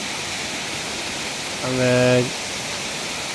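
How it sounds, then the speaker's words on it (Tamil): A rushing waterfall in the Kolli hills roars as a steady broadband wash through the whole stretch, with a short burst of speech cutting in partway through. "தண்ணி ரொம்ப ஜில்லுன்னு இருக்குது, அழகாக இருக்குது பார்க்குறதுக்கு. அற்புதமான அருவி இது."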